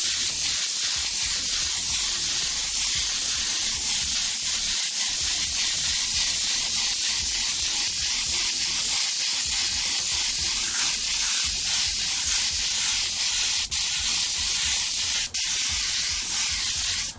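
An airbrush sprays paint in a steady, continuous hiss that carries on alone and unbroken throughout.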